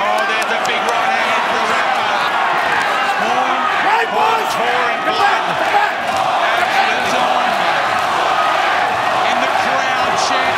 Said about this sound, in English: the crowd chants Hornets as he throws a big right hand again to Jeff Horn